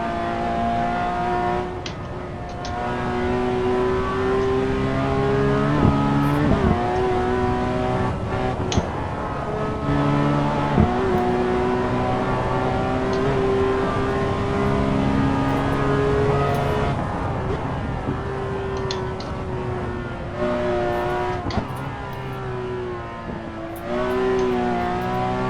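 A Porsche 911 GT3 RS (991) engine in the Assetto Corsa racing game, lapping the Nordschleife at a trackday event, holds a steady loud high-revving drone with repeated gear-shift dips and rises throughout.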